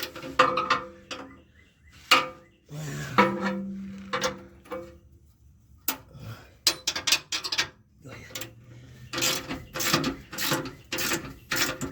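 A ratchet wrench clicks in bursts while tightening bolts on a heavy-duty steel bumper being installed on a Jeep JK, close mechanical ratcheting with pauses between strokes.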